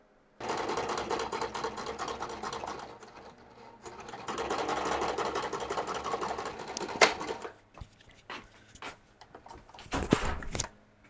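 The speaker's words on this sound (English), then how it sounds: "They're going to get sewn down just these two sides." Sewing machine stitching down the two side edges of a fabric cosplay robe, running in steady whirring bursts with short pauses between them and a couple of sharp clicks near the end.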